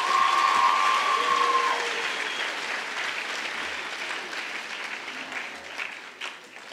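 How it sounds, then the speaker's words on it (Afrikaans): An audience applauds the conductors at a jacket ceremony, steady warm clapping from a crowd that starts strong and slowly thins out, with a brief tone faintly heard over it early on. "Kom ons klap weer vir hulle lekker hande."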